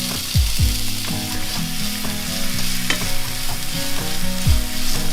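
Diced onion fries in olive oil in a skillet over medium heat, a steady close sizzle with stirring and a couple of sharp scraping swipes.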